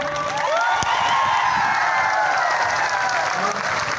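An audience at a stage event breaks into strong, steady applause mixed with cheering and whooping voices, loud and continuous throughout.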